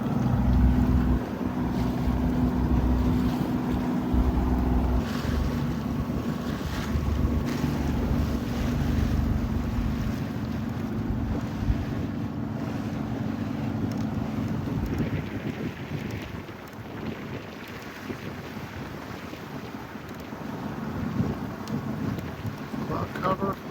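A sailboat underway on a day of southerly wind heading out of the Rappahannock River, with steady wind buffeting the microphone and water rushing by throughout, loud and continuous.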